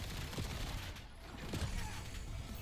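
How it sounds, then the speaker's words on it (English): Video-game gunfire crackles in a distant, muffled fusillade over constant rumbling battle noise, a few bursts standing out faintly without clear voices. "Incoming fire!"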